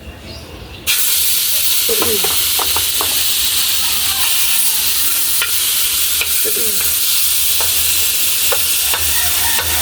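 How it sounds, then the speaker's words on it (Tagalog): Pork fat sizzles and crackles loudly in a hot pan as it renders its own grease, a dense continuous frying hiss with occasional stirring scrapes, close and alone. "ilagay na po natin yung taba"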